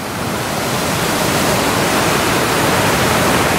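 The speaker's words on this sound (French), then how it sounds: "Là c'est une rivière qu'on appelle le Toué" River flowing in the UK countryside, a loud, dense, steady rush of water filling the whole clip without pauses, no voices.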